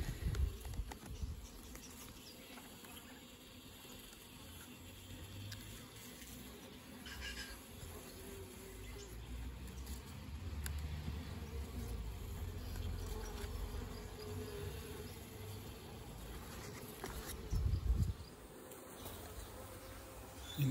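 Honey bees buzzing in a dense, steady drone while caged queens are installed in new mini nucleus hives, close and continuous, with occasional soft handling knocks and no talk.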